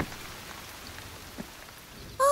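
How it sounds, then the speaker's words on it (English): Soft, steady rain patters quietly throughout, ending with a sudden brighter sound at the very end. "Pitter-patter raindrops."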